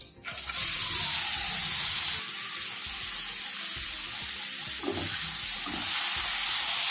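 Dried red chillies fry in a pan with a steady, close hiss and sizzle throughout, louder in the first couple of seconds, with a brief clatter near the middle and no voices.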